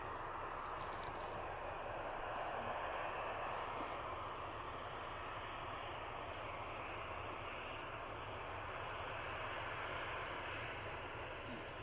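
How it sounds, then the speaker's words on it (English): Ryanair airliner taxiing at Edinburgh airport, a steady faint jet engine roar that holds throughout without a break, heard from a distance. "This is a fairly rapid taxiing Ryanair, so we'll have a ride with it"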